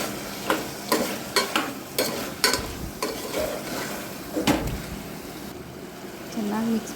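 Chopped tomato sizzles in a pan for mutton fry while a spoon stirs it, producing a rhythmic series of scraping knocks over a low frying hiss, and a voice is briefly heard near the end.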